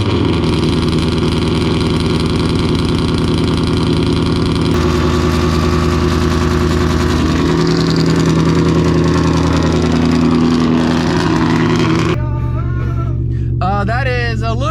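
Cold start of a 2019 Mustang GT V8 with the muffler deleted: a loud, deep, rumbling high idle sustained close by, settling lower partway through, with someone talking over it near the end.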